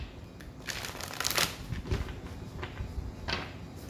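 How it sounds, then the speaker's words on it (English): A Moonology oracle card deck is shuffled by hand in a few quick riffling bursts, close and soft, with short pauses between them and no talking. "I want to pull from the Moonology deck."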